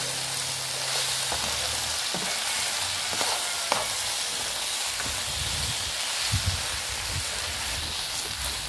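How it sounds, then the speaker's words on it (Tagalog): Curry frying in a pan, with the curry powder just added, gives a steady close sizzle throughout, while a spoon stirs it and makes scattered scraping taps. "Haluin lang po natin."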